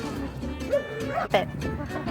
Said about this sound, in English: Right now you can hear my dogs.